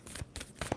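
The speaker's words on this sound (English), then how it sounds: "2 more shuffles for Libra." A tarot card deck is shuffled by hand in a brief quick riffle, with soft papery flutters and light taps close by and no talking.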